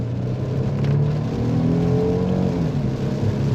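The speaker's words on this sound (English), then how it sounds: "Let's go ahead and give a little bit of gas here." A 2015 Hyundai Genesis 3.8L AWD sedan accelerating, heard from inside the cabin as a steady, loud engine drone with the pitch gently rising, no talking.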